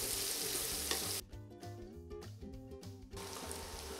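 Grated carrot frying and sizzling in a pan for a pine nut farofa, a steady crackling sizzle with stirring scrapes, close and continuous, no voice.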